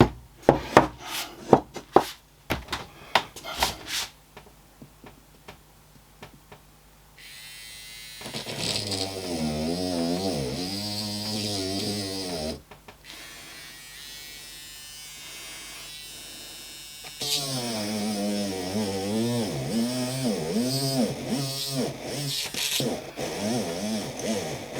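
Sharp tapping clicks open, then a small high-pitched USB cordless rotary tool whines steadily while drilling a hole, pitch wavering as it bites, pausing briefly before buzzing again.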